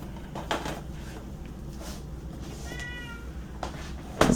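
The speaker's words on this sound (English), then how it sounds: "Sorry, it's my cat." A house cat outside meows a few times to be let in, fairly close, with soft thumps and a louder knock at the end, no talk.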